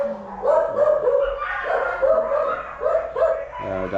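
Several dogs bark and yip together, a repeated chorus of overlapping barks at close to mid distance, with some whimpering and a low hum of background noise.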